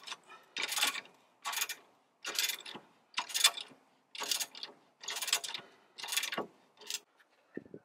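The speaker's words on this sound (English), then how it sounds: "You're gonna need two ratchets to get it loose." Close, steady ratchet strokes on 17mm coilover bolts of a sixth-generation Honda Accord, about ten evenly spaced bursts of crisp pawl clicking, each followed by a short pause.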